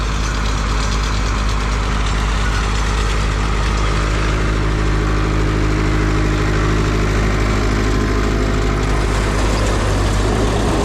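A tractor fitted with oversized tires runs in a hay field, its engine giving a loud, steady, unbroken rumble close by throughout, with no talking.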